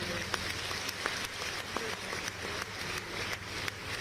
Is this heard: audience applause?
yes